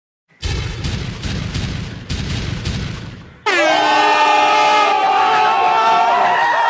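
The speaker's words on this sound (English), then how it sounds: "I just had to give you some explosions and an air horn" Three loud booming explosion blasts in quick succession, followed by a long, blaring air horn that holds steadily to the end.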